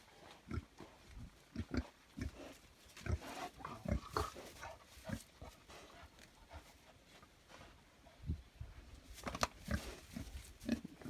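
Vietnamese pigs grunt in short, irregular bursts, close and fairly quiet, with snuffling and shuffling between the grunts, in a Ukrainian village.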